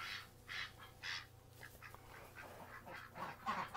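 A pet duck named Magoo quacking in a series of short, fairly faint nasal calls, several spaced bursts outdoors with low background hum.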